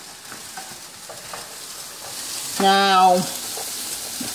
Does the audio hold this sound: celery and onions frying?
yes